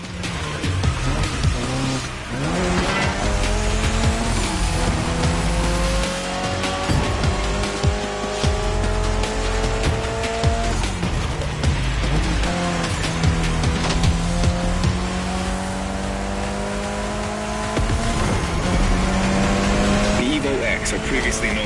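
Mitsubishi Lancer Evo X racing in Need for Speed Heat, its engine droning loud and continuous through repeated upshifts, with tire squeal and skids over game music and someone talking.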